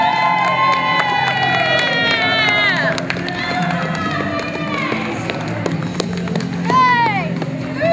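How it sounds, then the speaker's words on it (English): A lively wrestling show crowd cheers and whoops with clapping mixed in, while voices shout over the noisy, excited din. "Clap it up now."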